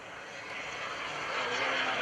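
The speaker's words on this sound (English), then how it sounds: "this little bitty jet engine" A steady, high whining jet engine roar from an FLS Microjet at an airshow, fairly loud and swelling slightly over two seconds, with no talking.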